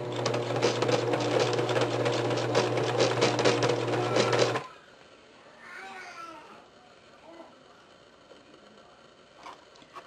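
A sewing machine stitches blind elastic in a loud, fast, steady whir for about four and a half seconds, then stops abruptly, leaving quieter room sounds and a child's faint babble.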